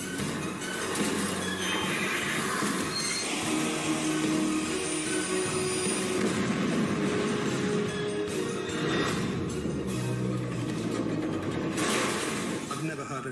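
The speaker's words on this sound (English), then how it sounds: "Another train approaches." A train approaching on a busy London railway line near Paddington at rush hour, a continuous loud rumble and rattle of wheels with rising hiss, heard steadily throughout.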